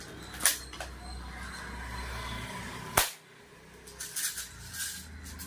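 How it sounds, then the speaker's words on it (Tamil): A toy Kalashnikov rifle, a KGF-branded toy gun, fires a few sharp cracking snaps: two near the start, one louder bang at three seconds, then a quick cluster of lighter pops near the end, all close up with no talking. "எப்படி ஷூட் பண்ணோன்றதை பார்த்தீங்க"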